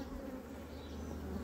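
Honey bees drone in a steady, dense buzz at an open hive while it is being fitted with a queen excluder and flow super, a continuous close hum with no talk.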